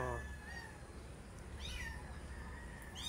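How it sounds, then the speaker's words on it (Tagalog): A long-haired cat meows several times, rising and sliding calls standing out over a steady background hiss, with one more meow cut off at the end. "Ngiyaw ng ngiyaw to guys eh."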